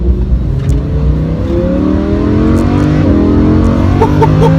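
A Lamborghini Huracan engine roars loud and close as it pulls hard through the gears, with its pitch climbing again and again in rising sweeps as each shift comes.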